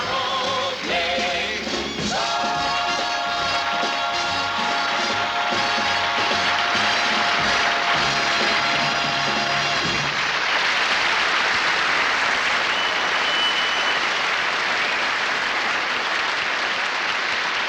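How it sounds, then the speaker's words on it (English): Applause from a 1965 television variety special's studio audience swells as the music's final sustained chord ends, then carries on alone as steady, dense clapping, loud and filling the room. "Thank you very much, ladies and gentlemen, for your applause."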